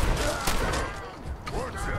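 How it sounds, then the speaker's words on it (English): Shotgun blasts in Fallout 4 during a fight with super mutants, a couple of loud booming shots in quick succession amid dense combat noise. "Okay, shotgun again."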